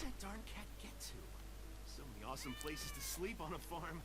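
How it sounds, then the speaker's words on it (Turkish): A cat meows a few times in LEGO Marvel's Avengers while free-roaming Barton's Farm, the drawn-out cries rising over a steady game background hum, with someone talking around them. "Kedi."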